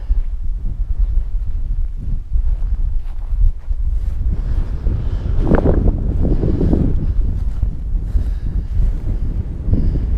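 Strong wind buffets the microphone in continuous low rumbling gusts, swelling louder midway, with no voices.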